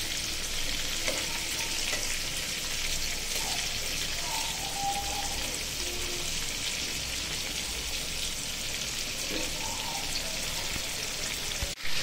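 Prawns fry in a little oil in a pan, giving a dense, steady sizzle with crackling pops. It stays loud and even throughout, with no talk.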